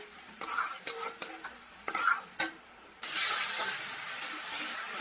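Potatoes are stirred into a spiced paste of onion, tomato, cumin and ginger in a pan, with several distinct scraping strokes, then a steady loud sizzle of frying takes over, close and with no talking.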